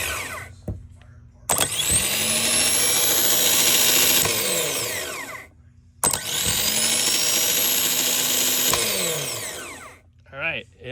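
A new starter motor for a Nissan Titan is tested on the bench, whirring loudly in two long bursts of several seconds each with a brief pause between, then winding down; a short mechanical click precedes each run.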